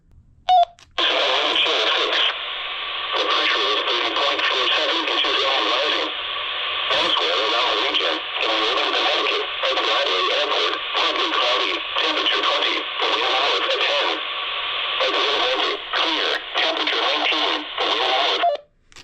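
Broadcast playing through the radio feature of a cheap four-pack walkie-talkie, a narrow, tinny band-limited voice with brief breaks, steady and close, one burst of static at the start.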